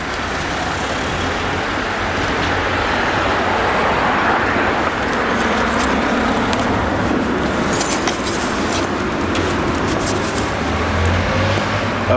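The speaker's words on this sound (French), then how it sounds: "il y a tellement de circulation que vous n'allez pas m'entendre" Heavy street traffic at a Paris street corner, where the rue Antoine Chantin meets the rue Bégon: a dense continuous roar of cars, buses and trucks passing close by, with occasional metallic rattles and no voices.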